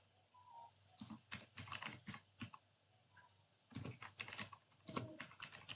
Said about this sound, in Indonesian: Jadi kita ketik kubek get deployment dan kita enter name.